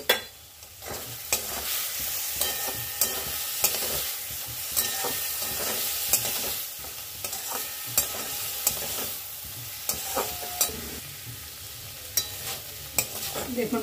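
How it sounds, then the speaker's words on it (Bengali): Spicy onion stalk fritters with Kashmiri chili fry in hot oil, giving a steady close sizzle with frequent clinks and scrapes of a spoon stirring in the pan. "এবার মশলাদার পেঁয়াজ কলি ভাজা প্রায় হয়ে গেছে"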